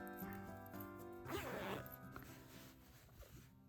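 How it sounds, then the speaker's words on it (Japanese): A zipper being drawn closed on a small handmade round fabric coin purse, a short rasping pull standing out over a steady low background hum. "ファスナーを閉じて、"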